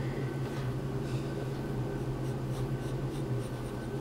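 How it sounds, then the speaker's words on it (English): A pen draws a seam line on paper, making a soft, continuous scratching that runs steadily for about four seconds, close and quiet over a low background hum, with no talking. "So I'm going to draw the seam."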